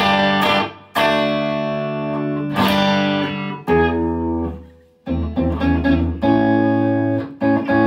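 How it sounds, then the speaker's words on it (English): Sustained electric guitar chords ring out with a processed, effects-laden tone through a Line 6 HX Stomp reverb, each strum leaving a lingering wash of reverb between changes. "might be able to hear the reverb on there"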